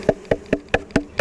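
Honey bees buzz close by in a series of rapid, evenly spaced pulses, loud and without any voices.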